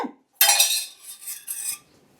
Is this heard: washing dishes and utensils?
yes